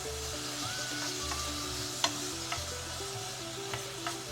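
Fish cakes cook in a soy-based seasoning sauce in a pan without oil, giving a soft, steady sizzle with a few light clicks and taps of stirring and no talking.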